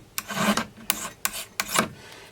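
A flat file rasps across a chainsaw chain's depth gauge, lowering it to a hardwood setting on a progressive gauge; four distinct scraping strokes, close and fairly loud, with brief pauses between them and no talking.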